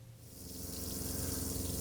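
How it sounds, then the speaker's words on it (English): GMC motorhome water pump draining a tank through its drain during winterization, a steady rushing gush of water with a low motor hum that swells in the first half-second and then holds loud and even. "this is the pump pumping all the water out of the tank through that drain"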